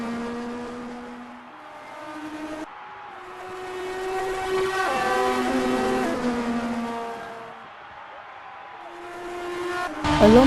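Formula 1 cars racing at the Spanish Grand Prix, an engine drone rising and falling as cars pass, with a sharp louder burst near the end.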